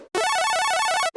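A dry, simple saw wave synth arpeggio plays a quick, bright run of notes with no effects, loud and alone for about a second.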